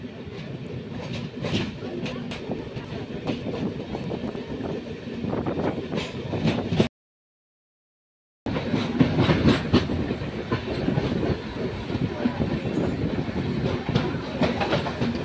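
A Chennai Egmore to Pondicherry MEMU express train runs with a steady rumble and rhythmic clickety-clack of wheels, loud and continuous apart from a short silent gap midway.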